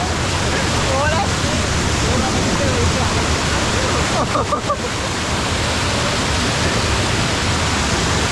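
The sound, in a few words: water flowing over a check dam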